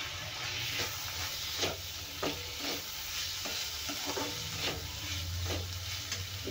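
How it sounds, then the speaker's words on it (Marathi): Boiled corn kernels added to a hot pan hiss and sizzle continuously while a spoon scrapes through them in repeated stirring strokes, near and steady, with no voices. "आता आपण याच्यामध्ये घालूया उकडलेले कॉर्न"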